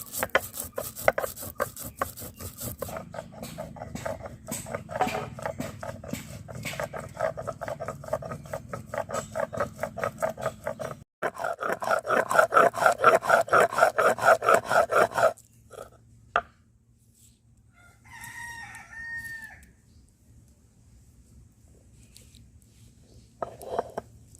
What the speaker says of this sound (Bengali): এই জিরে আর ধনিয়া আমি এখন বেটে নেব।